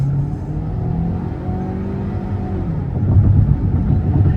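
A 2025 Ford Escape ST-Line Elite accelerating hard from about 16 mph, its engine note climbing through rising tones and then swelling into a louder rumbling pull, heard from inside the cabin with no talk.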